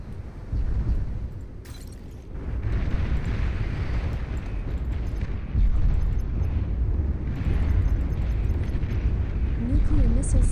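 An enemy commander unit blows up in the strategy game Beyond All Reason with a heavy rumbling explosion that swells and keeps roaring loud for several seconds, followed by more booming blasts, while a voice talks.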